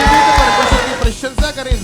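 A congregation at a Sunday holy communion church meeting shouts praise to Jesus, loud massed voices over a steady rhythmic thumping beat.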